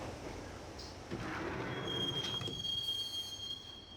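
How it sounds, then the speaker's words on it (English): A subway train from the video game Max Payne rumbles along the rails, its wheels letting out a long, thin, high squeal that rises midway and holds. The sound is moderately quiet and steady, and no one speaks. "the train doors had already shut behind me, and I was in for the ride"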